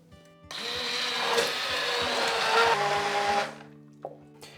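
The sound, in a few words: blender blending carrot and onion sauce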